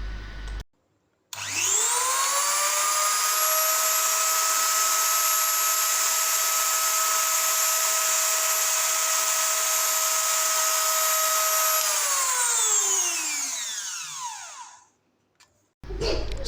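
A Ryu RDG 3.2 mini grinder spins up to a steady high-pitched whine, holds it evenly for about ten seconds, then winds down as the motor coasts to a stop, loud and close.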